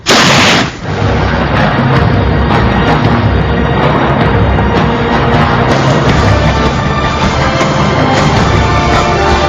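Gunfire in a Filipino drama: a sharp, loud shot opens the clip, followed by sustained heavy booming and crackling blasts that fill the rest of the scene without speech.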